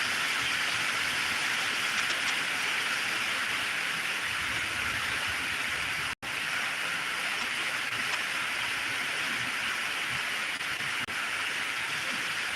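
Heavy rain pours steadily around a car, a dense, loud, unbroken hiss with a single brief dropout partway through, and no voices.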